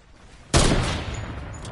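An AR rifle fires in a video game: one sudden loud crack that rolls into a long echoing tail, with no talk over it.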